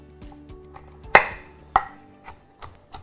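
A kitchen knife chops carrots into cubes on a cutting board: a handful of crisp, close chops at an uneven pace, the strongest two near the middle, with no talking.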